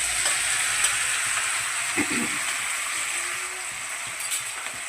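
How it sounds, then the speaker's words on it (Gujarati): Tomato gravy tempering for fried undhiyu sizzles steadily in hot oil, a continuous close hiss with faint stirring clicks and no talk. "જો સરસ મજાનો વઘાર થાય છે"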